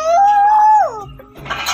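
A voices a drawn-out imitation of big dogs barking, a single sustained high howl-like cry that slides down and fades, followed by a brief breathy noise.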